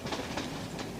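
A train rolls along the rails with a steady rumble and rhythmic clickety-clack of wheels over the track joints, heard from inside the carriage, continuous and moderately loud.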